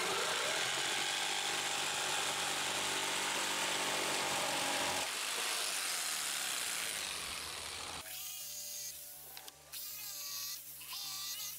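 Power tool cutting out the shape of a homemade sword: a loud, continuous high-pitched whine that changes pitch partway through, with brief sputters near the end.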